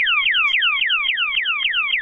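A home intrusion alarm sounds loud and close, repeating a fast series of shrill, falling electronic sweeps at a steady rhythm with no voices.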